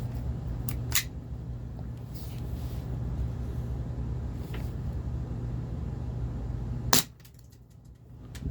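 An HFC DarkHawk gas blowback airsoft pistol running on red gas fires a few sharp, isolated cracks, widely spaced, over a steady low background hum.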